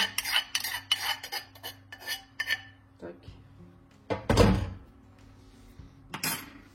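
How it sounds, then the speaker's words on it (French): A utensil stirs fromage blanc in a bowl for a cheesecake, giving quick clinking and scraping strokes close by, then a pause and a louder rattle, with some speech in the background. "On va d'abord mélanger le fromage blanc"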